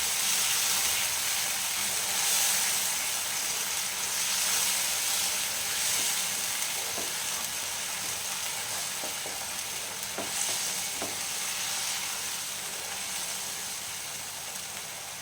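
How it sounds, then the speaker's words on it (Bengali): Poppy seed and green chilli paste masala sautéing in a pan for prawn malai curry, a loud steady sizzle and hiss with a few light spatula clicks and no talking. "পোস্ত আর লঙ্কা যেটা বাটা ছিল সেটা আমি দিয়ে দেবো। ভালোভাবে কষতে হবে মশলাটা"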